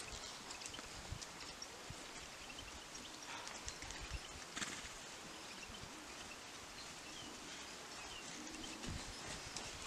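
Horses trot over ground poles in a riding lesson, producing faint, irregular hoof thuds and clip-clops on soft ground, distant and muffled against a rustling outdoor background.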